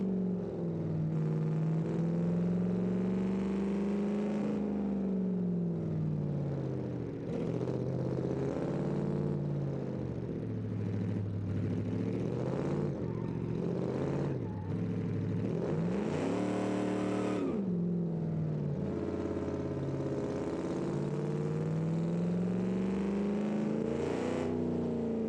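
A 1950s pickup truck engine in the BeamNG driving game revs and drones continuously, its pitch rising and falling through gear changes with loud acceleration sweeps throughout.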